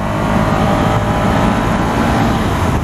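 A Ducati Scrambler 1100 Sport motorcycle accelerating gently on the road, its engine drone steady and loud with strong wind rush throughout.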